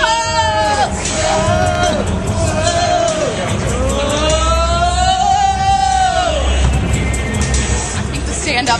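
A basketball crowd screams and cheers wildly during a roller coaster cheer at an ISU men's basketball game against Iowa, loud sustained rising and falling shrieks with dense babble beneath.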